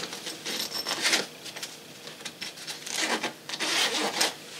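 Scratchy, ripping bursts of the front-pocket zipper on a guitar gig bag being pulled open and closed several times, close up, in uneven strokes with short pauses between.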